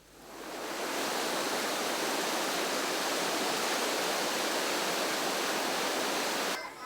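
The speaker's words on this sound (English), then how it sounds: "make sure you head straight for pouring hot springs" Water pours continuously at Poring hot springs in Sabah, Borneo, a close, even hiss and splash that swells in quickly, holds steady for several seconds, then cuts off abruptly.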